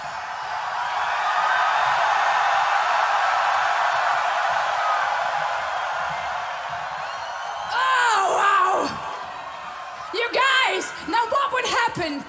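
A large crowd at a Wacken Open Air metal concert roars in a long, steady, distant wash of screaming. Whistles and individual shrill cheers rise over it toward the end.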